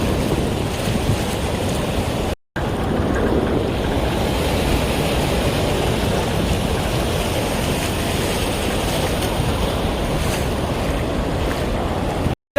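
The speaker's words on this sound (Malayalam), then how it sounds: "ഒരു വെറൈറ്റി വെള്ളച്ചാട്ടത്തിന്റെ അടുത്ത് ചേട്ടാ പോണത്" Water rushes and roars near a waterfall at Athirappilly, a loud continuous broadband wash heavy with wind buffeting, briefly cutting out twice, with no speech.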